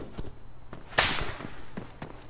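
Rifle shots fired toward a window during a Breaking Point firefight: one loud, sharp crack rises above a faint background, with a few softer, distant pops and clicks spread around it.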